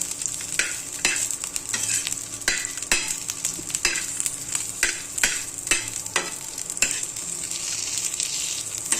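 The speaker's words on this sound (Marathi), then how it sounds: "आता ह्या हिरवी मिरची आणि लसूण भाजून घेऊया" Green chilies and garlic roasting in hot oil keep up a bright sizzle, punctuated every half second or so by sharp spatula scrapes against the pan, close and continuous, with no talking.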